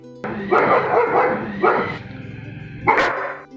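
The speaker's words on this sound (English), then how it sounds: "the dog burst onto the scene, barking like he was sounding the alarm for an impending invasion" A dog barking in a series of loud, close barks, several sharp bursts in quick succession followed by a pause and a final bark, with no talk.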